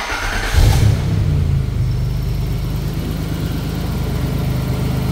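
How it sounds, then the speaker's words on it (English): A 1983 Nissan 300ZX Z31 rally car engine cranks briefly and catches, then settles into a deep, steady rumbling idle with a throaty note from a new Vibrant muffler, close by. "just want to get it fired up to show how good the exhaust sounds with this new vibrant muffler"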